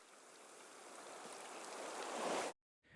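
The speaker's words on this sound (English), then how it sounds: "And the sounds of the sea hitting the shore." Sea surf washes against a harbor shore in a broad, steady hiss that swells gradually louder, with no voices, before cutting off abruptly near the end.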